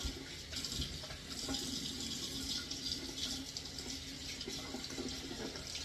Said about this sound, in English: I will start by turning on my water and making sure that the water gets warm